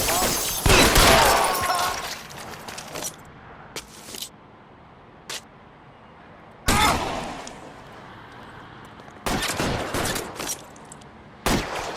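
A shootout in L.A. Noire: a long opening burst of heavy gunfire, then scattered single shots and separate loud volleys with quiet gaps between them, sounding close and punchy.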